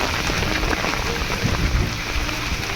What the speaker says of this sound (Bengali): দেখতে পাচ্ছ বৃষ্টিটা হচ্ছে